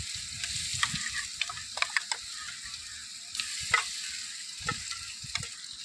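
Ginger garlic paste fries with a light sizzle in a pan over an outdoor wood fire by a canal bank, broken by scattered clinks and scrapes of stirring under a steady crackling hiss, with no talking.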